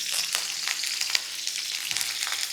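Cinnamon, cloves, bay leaf and green chilies fry in hot oil, a steady crackling sizzle with quick pops, close and fairly soft, with no talk.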